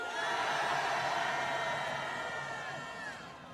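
A large crowd at a Taegukgi flag rally roars a sustained cheer, shouts blending into one loud wash that slowly fades over a few seconds.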